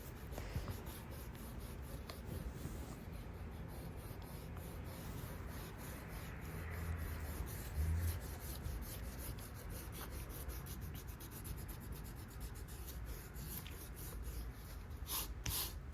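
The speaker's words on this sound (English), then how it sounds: "But now you just want to erase everything to the point where like you're still able to see it" A rubber eraser scrubs pencil lines off drawing paper in steady, rapid back-and-forth strokes, a soft close scratchy rubbing that runs continuously with brief pauses.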